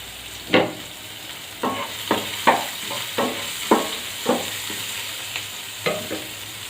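Garlic and onions frying in hot oil in a pan for paneer fried rice, with a quiet sizzle under a series of distinct stirring clacks and scrapes at irregular intervals, close and without talk.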